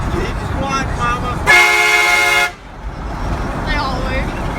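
A loud train horn blasts once for about a second, sharp and steady, cutting over people chatting close by with background noise throughout.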